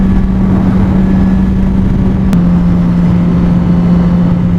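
A motorcycle engine drones at a steady pitch while riding on roads in Western New York, loud and continuous with constant wind rush, the tone dropping slightly midway.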